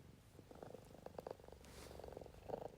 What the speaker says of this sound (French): Avec mon chat à côté qui ronronne.